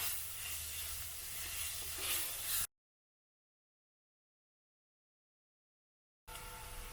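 Ginger and garlic sizzle in a pan for a prawn curry, a loud continuous hiss that cuts off abruptly into silence partway through and then resumes briefly at the end.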